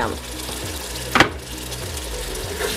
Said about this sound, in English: just add a little bit of water and continue stir frying